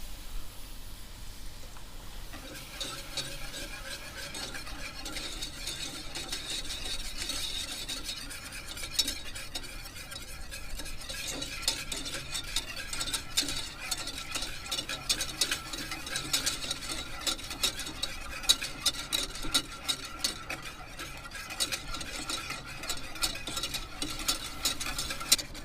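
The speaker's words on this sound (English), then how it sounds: "Now we're just going to add in slowly some cold milk." Cold whole milk being stirred slowly into a simmering sauce in a pan, giving a steady scraping, swishing stir with a faint sizzle underneath for the whole stretch, close and moderately loud, no talking.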